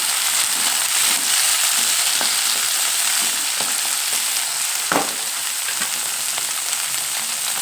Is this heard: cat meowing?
no